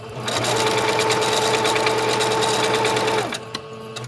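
A sewing machine runs a decorative stitch along a fabric ruffle, a loud, continuous mechanical whirr with rapid needle rhythm lasting about three seconds, then stopping with a few light clicks.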